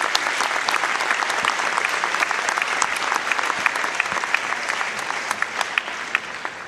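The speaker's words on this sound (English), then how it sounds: "Let's have Dave stand, which he is, and receive our applause and thanks." An audience at a boys basketball championship awards event gives a steady, sustained round of applause, a dense wash of many hands clapping at even loudness throughout.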